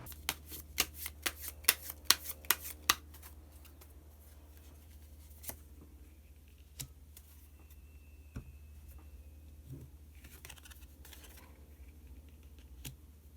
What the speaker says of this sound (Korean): 그러면 카드 한 장을 더 뽑고 이야기 계속 나오도록 하겠습니다.